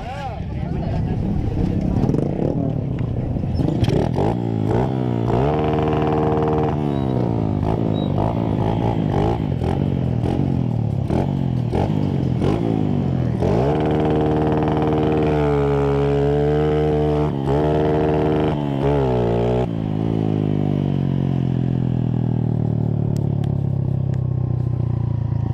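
A motorcycle engine revs up and down repeatedly nearby, its pitch climbing and falling in loud surges with clattering noise.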